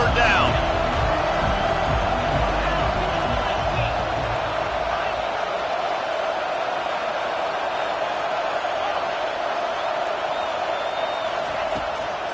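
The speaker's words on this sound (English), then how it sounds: "this crowd really affecting the football game" Stadium crowd roar from an NCAA college football video game on a third down, a steady loud wash of cheering that swells at the start and holds throughout, with commentary voices over it.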